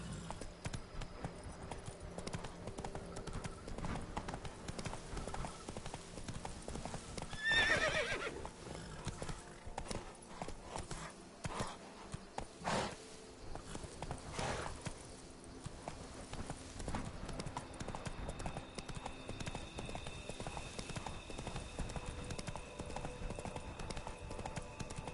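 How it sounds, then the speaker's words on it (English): Horse hooves clip-clop steadily with a whinny from a rider's mount in The Witcher 3 video game, heard alongside a constant dense in-game ambience, with a brief spoken line. "Whoa there, Roach"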